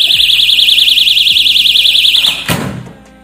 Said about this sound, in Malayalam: ഡോർ തുറക്കുമ്പോൾ അതിന്റെ അലാറം അടിക്കും